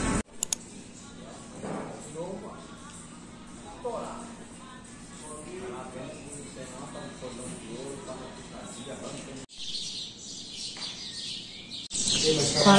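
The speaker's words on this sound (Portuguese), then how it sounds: "Quatro da manhã, os passarinhos já estão cantando" Birds chirping and singing before dawn at four in the morning near a bus stop, scattered tweets and calls under a steady ambient hum, with occasional clicks and a louder noise burst near the end.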